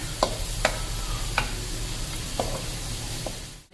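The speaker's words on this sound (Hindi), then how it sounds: "प्याज डाल देंगे और इसको हल्का ब्राउन कर लेंगे" Onions browning in a hot pan with a steady low hiss, broken by a few sharp scrapes and clinks of a spoon stirring, while making beef trotter paya.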